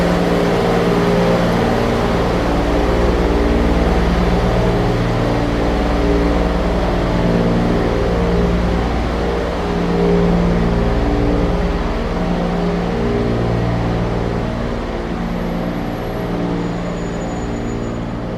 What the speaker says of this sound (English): Truck is loud.